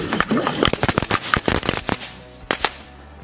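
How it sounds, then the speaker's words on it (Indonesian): A rapid, irregular string of sharp firecracker cracks and pops bursts loudly inside an aquarium, thins out, then ends with two final bangs. "Selanjutnya kita nyalain mercon peretekan."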